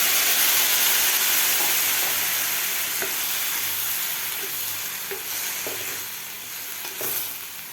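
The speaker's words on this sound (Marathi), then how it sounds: "गॅस आपल्याला मिडियम ठेवून हे तीन ते चार मिनिट आपल्याला हे भाजी शिजवून घ्यायची आहे" A pan of pumpkin curry hisses and sizzles steadily up close over medium heat, with occasional stirring taps, gradually softening over time; no talking.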